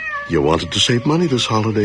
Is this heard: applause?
no